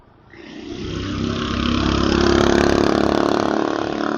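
Motorcycle engine during a ride to the market, rising from a low idle into a steady, loud mid-pitched drone as it revs up and holds speed.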